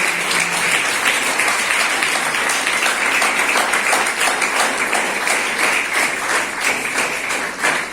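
An audience claps loudly for a bulletin release at an event, giving dense, sustained applause that stays steady and close throughout with no talking over it.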